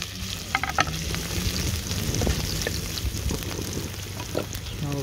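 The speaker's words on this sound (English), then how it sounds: "Add the chopped garlic." Chopped garlic sizzles and crackles in a hot pan for a monkfish curry, with a close, continuous frying hiss broken by a few utensil clinks and stirring scrapes.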